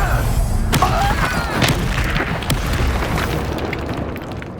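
Incendio fire spell cast in the Hogwarts Legacy video game, a sharp burst at the start and then a dense, loud roaring whoosh of flame with crackling impacts that gradually fades.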